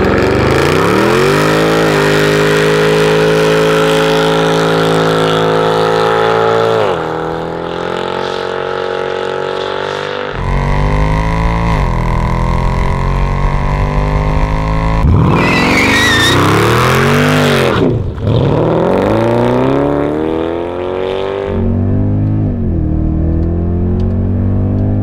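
Mercedes AMG cars, including a C63 AMG, an SL65 AMG and a CL 500, accelerate hard at full throttle, their loud engines climbing through the gears with repeated rising pitch sweeps and shifts over a continuous roar.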